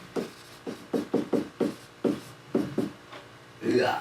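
Pen or marker rewriting a math formula by hand, a quick series of about a dozen close scratchy strokes in uneven bursts, ending in a longer rubbing sound.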